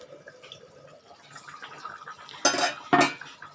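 A lid goes onto a cooking pot of mango and drumstick kara kulambu: two sharp metallic clanks in quick succession after quiet kitchen rustling.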